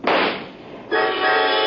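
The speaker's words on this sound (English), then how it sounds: "The gun exploded as it hit the floor." A gun going off as it hits the floor in an old radio drama, a loud broad blast that fades, followed by a sustained ringing, tonal noise.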